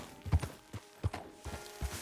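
Horse hooves clip-clop in Red Dead Redemption 2, a few irregular thudding steps spaced about half a second apart, moderately close against faint background ambience.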